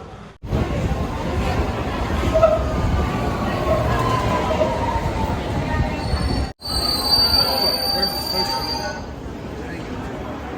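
A London Underground train rumbles steadily through a tunnel, with wheels squealing at a high pitch toward the end. Voices of a crowd murmur faintly beneath the roar.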